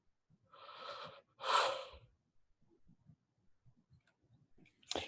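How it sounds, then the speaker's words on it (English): A long drawn-out yawn, two swelling breathy exhalations close to the microphone, with a short sharp breath or sniff near the end. "I'm yawning."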